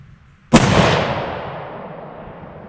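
A single sharp, loud report from a custom .223 bolt-action rifle with a heavy bull barrel, firing reloaded ammunition, followed by a long echo that fades slowly across the range.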